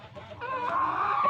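Chickens clucking and crowing close by, a steady throaty run of calls from sick fowl with a rattling, snoring breath, loud and alone without talk.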